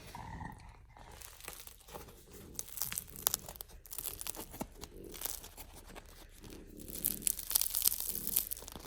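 A crusty French baguette is broken apart by hand, giving dense dry crackling and tearing crunches in irregular bursts, close up with no talk.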